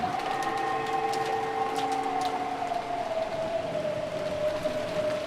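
Wind and rain effects in the Umineko visual novel game: a steady, high whistling wind tone, sliding slowly downward, over a constant hiss of rain; no voices.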